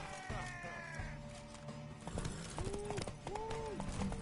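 Horse hooves clip-clopping in The Witcher 3, a steady close rhythm of hoof strikes under a continuous game soundscape with music-like tones.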